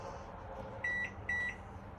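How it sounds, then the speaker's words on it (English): Two steady electronic beeps from a microwave oven in a 2022 Forest River Salem 29VBUD bunkhouse RV as its clock is set, each tone lasting about a fifth of a second, clear over a low room hum. "Come back up to the microwave. It also has a clock button on it."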